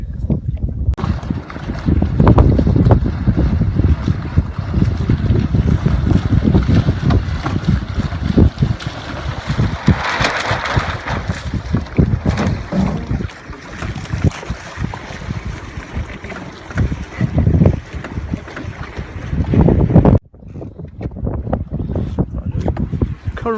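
A Hunter Minstrel sailboat running on the jib alone near Salcombe and Dartmouth, with wind buffeting the microphone and water rushing and slapping against the hull in a continuous, uneven roar, briefly easing near the end.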